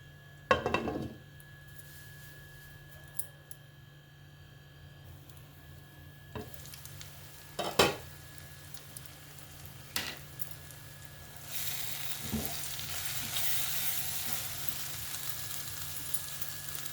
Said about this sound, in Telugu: వంకాయలు ఒక 2 నిమిషాలు మగ్గనిద్దాము.